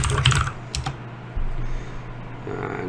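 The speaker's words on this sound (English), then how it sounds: "what we're going to do is type in Azure." Keys tapped on a computer keyboard while entering a search term, a brief burst of close clicks at the start followed by a few scattered taps over low background hum.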